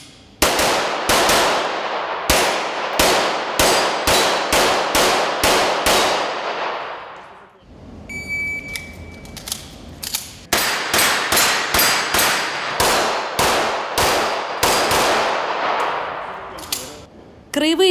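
Pistol gunshots at a regional practical shooting competition in Sochi: rapid strings of sharp, loud cracks with echoing tails, a brief lull with faint clatter midway, then another quick volley.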